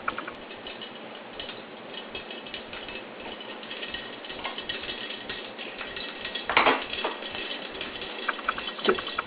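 Mustard seeds popping and sputtering in hot oil in a pot for cream of wheat upma, a dense crackle of small ticks with a few louder pops, steady and close throughout.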